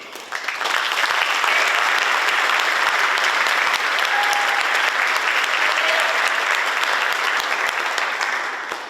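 Sustained audience applause fills a senior awards ceremony as students step forward, a dense, steady wash of clapping from a large crowd that holds for several seconds before tapering at the end.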